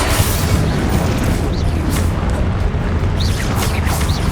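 Loud, dense magical blast effects from the Confringo fire spell in Hogwarts Legacy, rumbling booms and bursts rolling continuously, close and full.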